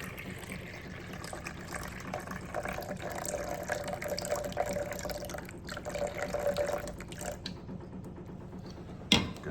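Tap water runs steadily into a bowl for sourdough bread dough, a continuous splashing fill with a faint rising tone, close by and alone, ending with a brief sharp clunk.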